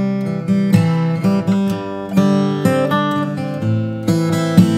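Solo guitar arrangement of the verse of a song, with plucked melody notes over chords in a steady, clear rhythm, played up close with no talking.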